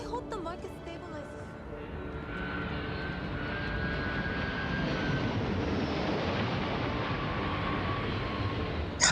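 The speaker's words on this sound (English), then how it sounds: "I hear ship engines and immediately think, what is it and can I steal it?" Spaceship engines in the game Starfield make a steady, rising drone that swells from moderate to loud over several seconds, with a faint tonal whine on top and brief voices at the start.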